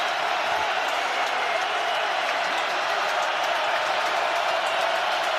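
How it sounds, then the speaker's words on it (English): A dense, steady roar from a packed football stadium crowd at a Chiefs at Ravens NFL game on third down and 10. The loud, sustained wall of noise holds without a break throughout. "Crowd in full throat on a 3rd down and 10."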